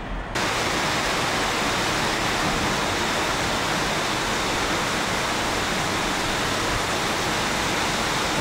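Heavy tropical rain pours steadily onto a balcony in Phnom Penh, Cambodia, a dense, constant roar of broadband wash that holds loud and unbroken throughout.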